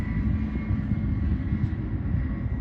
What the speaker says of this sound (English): Tractor's whining a bit.